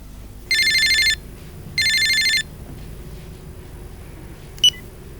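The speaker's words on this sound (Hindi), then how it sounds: "घंटी बज रही है भाई साहब।" A telephone rings in two short electronic bursts, close and clear, during a phone call in a comedy sketch, followed by a brief high beep near the end.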